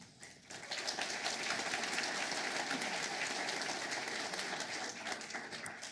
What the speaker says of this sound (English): please join us in sharing a round of applause in recognition of our Ottawa University Student Athlete Scholarship recipients